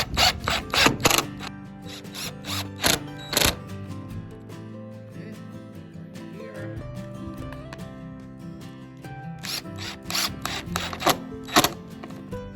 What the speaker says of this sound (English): Okay, just attach these couple of screws here now.